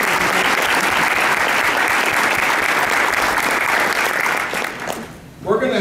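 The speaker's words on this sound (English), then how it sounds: "I think we should applaud Joel." An audience at an energy-industry panel event applauds steadily in a dense, sustained wash of clapping that fades out near the end.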